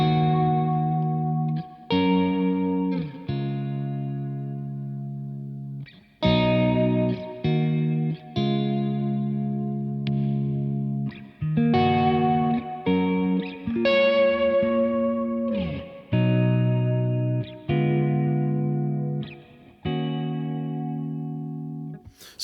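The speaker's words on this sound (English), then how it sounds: "Now if I put loads of reverb in" Clean electric guitar through a Victory V4 Kraken amp with a cab preset and heavy reverb, glassy chords and notes ringing out in phrases with long ambient tails between strums, played alone and fairly loud.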